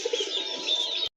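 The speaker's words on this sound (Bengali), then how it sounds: "সাদার ভিতরে আরেক জোড়া দেশি কবুতর, অনেক সুন্দর কবুতর, কিউট কবুতর।" A pair of native deshi pigeons, white with black markings and crests, coo in a soft, close, continuous burst that stops abruptly.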